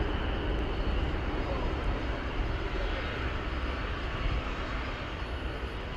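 Broad continuous jet engine roar from an Atlas Air 767 airliner taxiing at DFW Airport, a steady loud rumble with no breaks.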